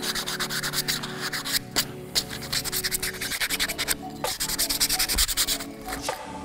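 Smooth finishing paper rubs over a small carved wooden paddle in quick rhythmic back-and-forth strokes, close and moderately loud, with brief pauses between passes.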